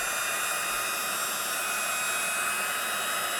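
A hair dryer blows steadily and loudly over stamped pigment sprinkles on a handmade card, a continuous broadband whoosh with no pauses and no talking.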